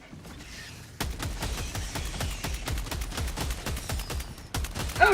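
Rapid automatic gunfire in Helldivers 2 starts after a second of quiet and runs as a dense, loud, steady burst of shots against bugs at an outpost, ending with a short break and a sharp final report.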